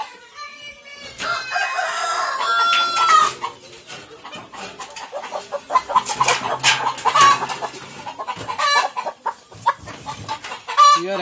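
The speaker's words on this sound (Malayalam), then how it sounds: "ഇതിനിപ്പോ 5 മാസം പ്രായമായ കോഴി, 5 മാസമായി." A five-month-old Palakkad native rooster crows and clucks repeatedly nearby, its calls mixed with other farm chickens and bursts of background noise.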